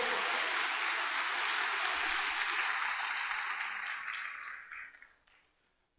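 Sustained applause from a church or seminar audience praising the Lord, a dense even wash of clapping that holds steady, then thins and fades out over the last second or two.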